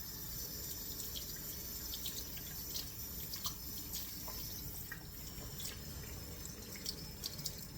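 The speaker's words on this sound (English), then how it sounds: "I'm going to rinse my knife off and put it on the drain board" A kitchen tap runs steadily as a knife is rinsed beneath it, a constant splashing hiss with a few small clinks and drips, close and fairly quiet.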